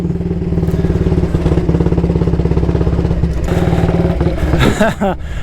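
A 1938 AJS Model 22 250cc single-cylinder motorcycle idles nearby with a loud, steady, rapid thumping beat and mechanical clatter, rising briefly toward the end as the throttle is blipped.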